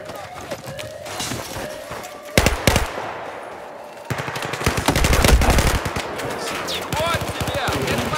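Rapid bursts of automatic gunfire from a Battlefield 4 Rush match on the Hammerhead map, with close sharp cracks and sustained rattling volleys over a busy battle ambience.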